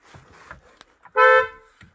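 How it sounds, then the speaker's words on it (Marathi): A vehicle horn gives one loud, clear honk of about half a second between soft, indistinct voices nearby. "हॉर्न कसं वाजतोय"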